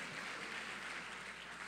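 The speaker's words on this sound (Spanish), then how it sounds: "dale un aplauso a Dios" Church congregation applause during a Spanish-language sermon, a steady wash of clapping at moderate distance that fills the short stretch without a break.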